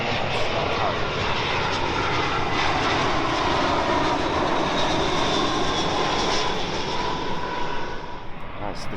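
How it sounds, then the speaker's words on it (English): British Airways Airbus A320 arriving at London Heathrow on the shuttle from Manchester, a loud sustained jet roar across the whole stretch, easing slightly at the end, with a faint voice underneath. "That's the shuttle flight from Manchester, the BA A320."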